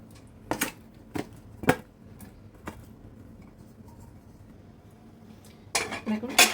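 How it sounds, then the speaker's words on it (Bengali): Cut potato pieces clatter into a metal pot of mutton curry in a few sharp knocks and scrapes, with utensil clinks and a louder burst of metal rattling at the end, close up. "এটা আমি এবারে এর মধ্যে আমি এই কাটা আলুগুলো দিয়ে দিচ্ছি।"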